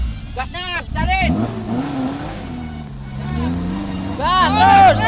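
A car engine revs and accelerates at a camping outing, its low, rising drone running steadily under loud voices that talk and call out throughout.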